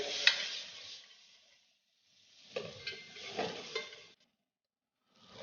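Carrot, onion, leeks and celery sauté in a pan, giving a soft sizzle with stirring scrapes that come in two bursts separated by a quiet gap.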